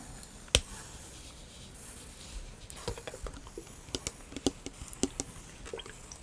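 A pencil scratches across the pages of a small paper notebook, close to the microphone in an ASMR setting. It opens with one sharp tap, followed by a run of faint, irregular scratchy strokes and taps.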